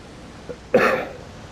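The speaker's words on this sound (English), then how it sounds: "Pardon the coughing." A single short, harsh cough close by, preceded by a faint breath, then quiet.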